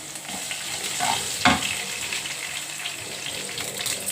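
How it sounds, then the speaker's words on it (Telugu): Dried red chilies and crushed garlic cloves fry in hot oil with a steady broadband sizzle, one sharp burst as they hit the pan, close and with no talk. "ఇవన్నీ మంచిగా వేగినాక తుంచుకున్న ఒక 3 ఎండుమిర్చి, చితగొట్టుకున్న వెల్లుల్లి రెబ్బలు"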